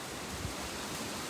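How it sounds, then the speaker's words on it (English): Wind blowing outdoors, a steady broadband roar buffeting the microphone with no other sounds, continuous and fairly loud over a brief moment. "it's a bit windy"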